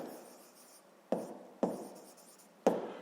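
Pen or chalk writing on a surface during a sixth-grade maths lesson, heard as three short, sharp scratching strokes spaced apart in a quiet room, close and distinct.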